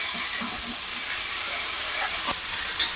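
Okra is tossed onto chopped potatoes frying in a pan, producing a dense, continuous sizzle with a few brief clatters and pops near the end. No one speaks.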